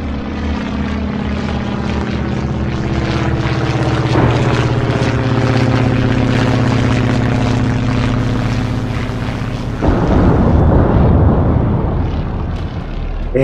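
A launching bomber airstrike in the naval strategy game Atlantic Fleet sends up a loud, steady propeller-engine drone with a deep throbbing hum throughout, turning to a rougher, rumbling surge near the end.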